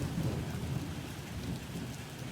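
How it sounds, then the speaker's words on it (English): Heavy rain pours steadily in Indonesia while a deep, loud rumble of thunder rolls underneath, dense and close throughout. "That was the loudest thunder I've ever heard."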